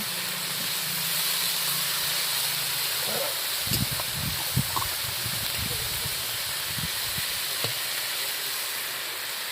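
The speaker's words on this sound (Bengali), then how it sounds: "এবার ভালো করে নেড়ে চেড়ে ভেজে নেবে" Potatoes frying in a pan with onion, chilli, salt and turmeric, a continuous hiss and sizzle with scattered stirring knocks and scrapes midway, close and steady.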